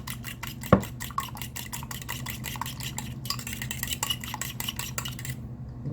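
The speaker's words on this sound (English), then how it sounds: "the egg, we're just going to mix that up" A whisk or fork beats egg in a bowl for fried deviled eggs, a steady run of quick, light clinking strokes close by, with one louder knock near the start and the beating stopping just before the end.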